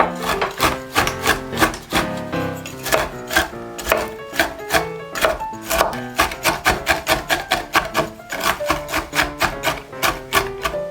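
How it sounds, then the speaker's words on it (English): Walnuts baked in an oven at 350 Fahrenheit are chopped with a knife on a board, giving rapid, steady crisp knocks that speed into a dense even rhythm, close and clear with no talking. "Now I'm going to chop the walnuts"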